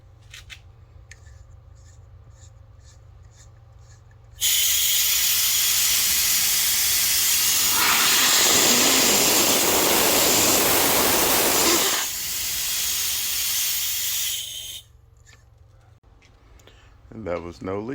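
An air compressor starts up on a pressurized system and runs loudly with a steady broadband hiss and rumble for about ten seconds, then drops to a quieter level before cutting off.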